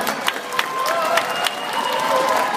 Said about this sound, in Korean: 우리 한국의 김민우 선수가 이길 수 있도록 큰 응원과 박수 부탁드립니다.